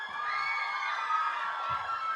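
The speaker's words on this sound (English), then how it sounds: "Keep the applause going." An audience at a cast appearance for The Maze Runner: The Scorch Trials cheers and whoops in a continuous, somewhat distant wash of crowd noise, with some higher shouts rising through it.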